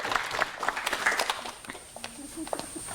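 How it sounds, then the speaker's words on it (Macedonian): A studio audience at a TV show claps in a burst of scattered, fairly close applause that comes in uneven waves and thins out toward the end. "Ајде, ние да ги охрабриме со аплауз"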